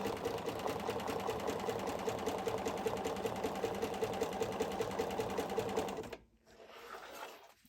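A sewing machine with a free motion foot stitches zigzag at a steady, rapid mechanical rhythm, loud and close, then stops abruptly near the end, leaving a softer low hum.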